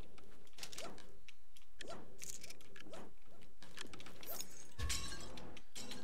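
Pumpkins being smashed in a video game, a quick run of cracking, shattering hits one after another, loud and close, with a heavier crunch near the end.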